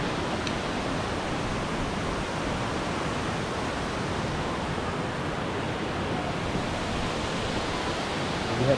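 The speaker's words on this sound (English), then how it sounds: "We have the rushing water there going down a fall." White Oak Falls at Skyland, a waterfall on a hiking trail, roars with water rushing down the cascade, a steady, dense broadband wash that holds constant and loud throughout with no voices.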